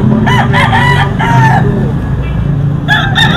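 Rooster crowing loudly and close by, a couple of stretched crows with a short pause between them and the start of another at the end.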